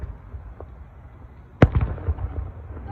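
A fireworks show: after quiet, a sharp loud bang at about the midpoint, followed by a string of smaller crackling bursts and pops decaying over the next second or so.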